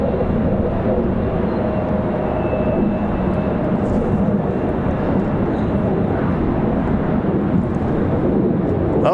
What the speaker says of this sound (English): F-15 flying over